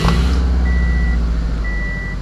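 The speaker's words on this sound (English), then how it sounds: "the car's idling fine right now" A Subaru engine idles steadily after starting up, with a low rumbling drone and a thin electronic beep tone running over it partway through. No one speaks.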